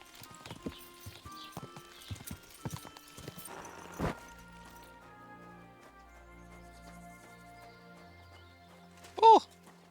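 Horse hooves clip-clop in a quick, even rhythm from a galloping horse in the video game Kingdom Come: Deliverance II, with a short neigh rising near the end; scattered bumps and thuds come early, and a voice is briefly heard.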